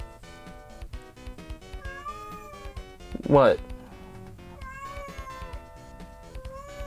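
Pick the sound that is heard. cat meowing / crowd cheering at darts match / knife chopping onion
cat meowing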